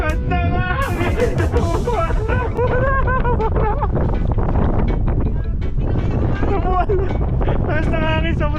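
Strong wind buffets the microphone during a mountain bike ride in Calgary, Alberta, a loud, constant rumble with voices talking over it.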